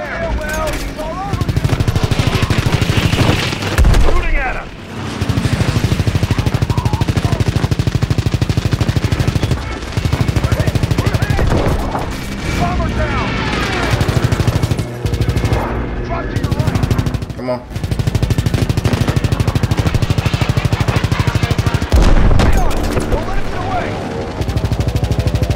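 Machine-gun fire and explosions in the World War II shooter Call of Duty WW2, Battle of the Bulge level, as dense sustained bursts with heavy rumble running almost continuously, briefly broken by short gaps.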